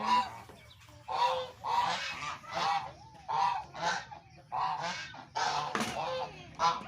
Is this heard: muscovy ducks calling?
yes